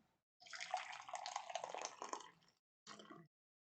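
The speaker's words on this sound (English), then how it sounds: "Just going to pour some tea." Tea poured into a cup in a quiet room, a steady splashing pour of about two seconds followed by a short second pour after a brief pause, close and alone with no talk.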